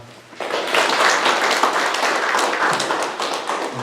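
Audience clapping at a town hall citizens' dialogue session in Sojeong-myeon, Sejong, rising after a brief pause into steady, dense applause from a crowd of many hands that holds for several seconds.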